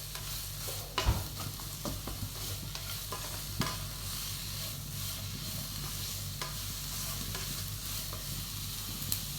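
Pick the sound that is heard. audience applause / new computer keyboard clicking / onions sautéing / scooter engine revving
onions sautéing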